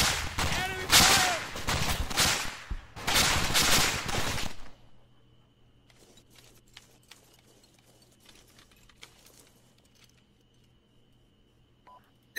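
Gunfire in the video game ArmA 3 in an urban fight at Zargabad, dense loud bursts of automatic fire close by for several seconds, then sparse faint distant shots and clicks.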